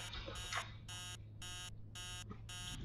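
A rhythmic electronic alarm clock beeping in the video game Emily Wants to Play Too, in repeated even bursts, about five pulses, steady and moderately loud.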